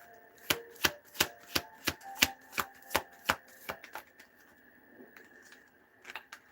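Tarot cards being shuffled by hand, a run of about a dozen sharp, evenly spaced riffling snaps, close and crisp, that slow and thin out toward the end.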